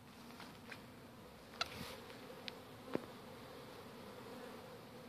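A crowd of honeybees buzzes with a steady, soft drone nearby, and a few louder individual passes flit close in brief bursts.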